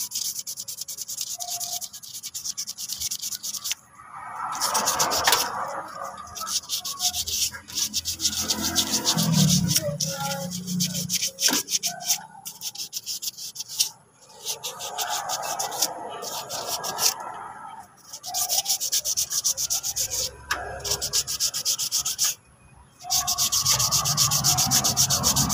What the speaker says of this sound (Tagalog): Kaya lang gamitan natin yung pinong yung ano, pinong liha.